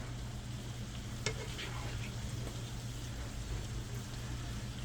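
Cooked rice with a red tinge being scooped from a hot one-pan turkey and vegetable skillet, heard as a low steady sizzle and bubbling with one sharp clink of the utensil, with no talking.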